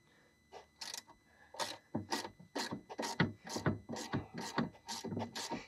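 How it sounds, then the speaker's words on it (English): Ratcheting box-end wrench turning a bolt on a BMW E38 rear window regulator, giving a steady run of about a dozen sharp, close clicking bursts with no talk. "So I recommend a ratcheting box end wrench."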